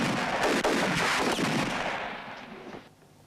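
Gunshots in a 1968 spaghetti western: a loud, dense volley of firing that rolls on steadily, then fades away toward silence, with no voices over it.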